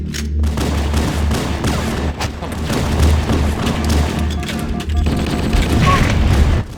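Grenade blast and rapid gunfire in the Halo 2 shooter, dense loud bursts of shots and booming thuds continuing throughout with brief gaps.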